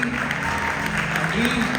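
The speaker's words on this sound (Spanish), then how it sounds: "Un aplauso a Giovanni, que ya está aquí" A church congregation claps for Giovanni, a brief steady wash of applause with voices and a sustained vocal or instrumental tone beneath it.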